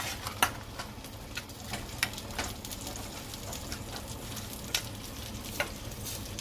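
Vegetables seasoned with Maggi seasoning stirred in a pan, a soft steady sizzle broken by a few light scraping clicks of the spoon, close and quiet with no voices.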